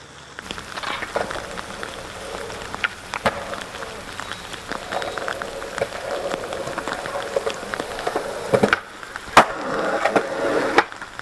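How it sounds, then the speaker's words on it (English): Rain falls steadily while a skateboard rolls on wet pavement, the wheels sending out a constant gritty rumble with sharp clacks and pops from tricks and board impacts. Some speech may be present. "the rain is coming down"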